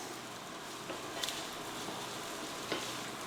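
Bacon bits sizzle steadily in a frying pan for potato salad, with a few light scrapes and clicks as they are stirred; close and fairly quiet, no voices.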